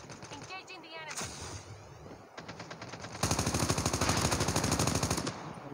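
Dense automatic gunfire in the video game Call of Duty, rapid continuous bursts growing louder and more sustained toward the end, with a voice briefly heard underneath.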